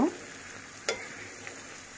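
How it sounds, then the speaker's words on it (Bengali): Beans for vegetable khichuri sautéing in a pan, a steady low sizzle with one sharp scrape of the spoon near the middle and a lighter clink later, no talking. "আমি বটবটিগুলি দিয়ে দিচ্ছি এখন ভালো করে কষিয়ে নিব"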